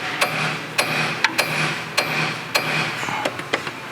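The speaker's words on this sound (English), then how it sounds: "take a small hammer and tap on the end of the puller" A small hammer taps the end of a clutch puller during a Pro XP Stage 2 clutch kit install, about a dozen sharp metallic knocks at an uneven pace, close by and alone over a low workshop hum.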